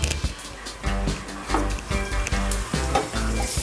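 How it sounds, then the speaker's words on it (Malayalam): Crushed ginger and garlic sizzle in hot oil with popped mustard seeds for a Kerala-style green peas masala, a spoon scraping the pan in repeated strokes over the constant frying hiss. "നന്നായി ഇളക്കാം."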